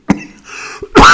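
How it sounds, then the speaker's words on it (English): A single short cough from one person with a tickle in the throat, close and loud, followed by a brief throat noise and a second harsher cough burst. "I couldn't get rid of it just through a simple little cough"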